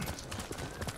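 Horse hooves clip-clopping in the Ghost of Tsushima video game, a steady rhythmic trot of muffled thuds that is fairly close and continuous through the moment, with no talk over it.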